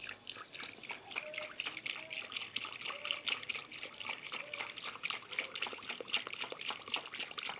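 Water pouring from a jug while making homemade bleach, a continuous trickling, splashing stream heard close up with irregular gurgles and drips, moderately quiet and with no talk.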